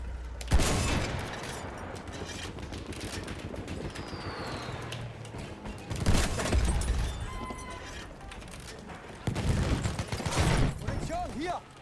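Machine gun fire in a war video game, repeated loud bursts of gunfire and booms over constant battle noise, with voices shouting in the mix.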